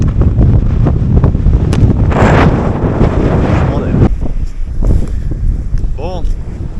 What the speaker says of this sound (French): J'ai le vent de face, j'avance pas.